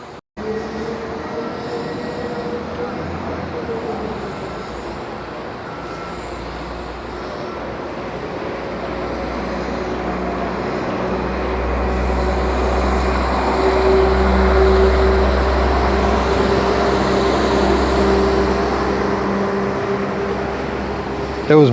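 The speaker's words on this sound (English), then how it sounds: "You see if the trains change gear." A hybrid train rumbles past up close, its heavy drone building steadily louder with a gear change shifting the engine pitch partway through, a long continuous passage.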